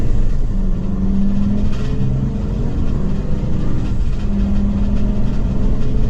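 A Ford E450 RV rolls along a rutted road, its engine and road noise forming a steady, loud low rumble throughout, with a faint tonal drone rising and falling.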